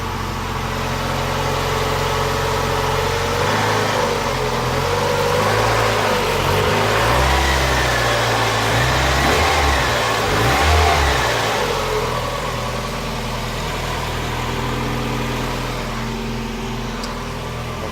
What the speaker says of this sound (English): let's give it a quick rev and see if we notice the difference